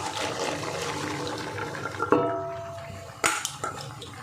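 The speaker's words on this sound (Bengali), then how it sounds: "এবার আমি শাপলাগুলো এর মধ্যে দিয়ে দেবো।" Water lily stems tipped into a pan of prawn curry with a watery rush and splash, followed by a couple of sharp metallic knocks of utensil on pan, close and fairly loud.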